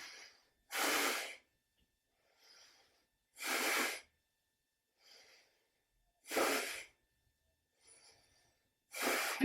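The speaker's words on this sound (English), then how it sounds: "Breathing in." Deep, audible breaths during a mindful yoga session: four strong, close breaths come about every two and a half seconds, with softer breaths in between and quiet gaps.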